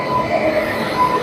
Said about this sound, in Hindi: यह रेल जो यहाँ से होकर के गुजर रही है।